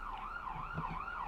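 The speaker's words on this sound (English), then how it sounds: "There's always sirens here." An emergency vehicle siren wails outside, a steady rising-and-falling tone heard at moderate distance with no talk over it.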